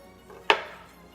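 A knife cuts a big slice off a sour fruit in one sharp, close crunchy chop that fades quickly, with a fainter scrape just before it.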